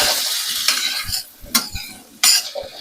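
Ground beef cooks in a pan with a steady sizzle, broken by several scraping stirs of a utensil against the metal and a couple of sharper clinks, close by and with no one talking.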